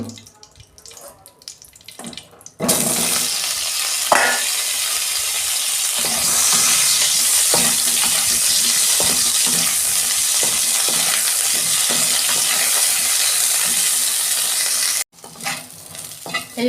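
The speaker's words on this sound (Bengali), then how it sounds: "আমি তেল দিচ্ছি, কপি ভাজবো।" Cauliflower dropped into hot oil in a pan sets off a loud, sustained hiss and crackle that starts abruptly and holds steady before cutting off; faint kitchen clatter and brief talk before and after.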